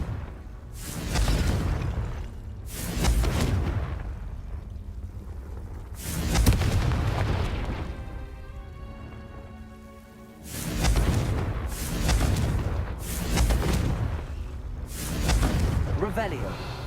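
Confringo fire spells explode one after another in Hogwarts Legacy, with about six heavy booming blasts at irregular intervals. Each blast rolls into a rumbling tail between the hits.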